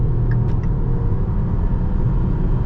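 A 2024 Lynk & Co 01 plug-in hybrid with a 1.5 turbo petrol engine and electric motor, 261 hp, accelerating hard at full throttle on a night drive: a loud, steady, deep engine and road rumble heard from inside the cabin.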